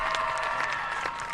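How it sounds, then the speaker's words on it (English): Brief applause and light cheering from a high school football crowd for a homecoming club, a short burst of clapping over a steady tonal hum and murmur. "give a round of applause"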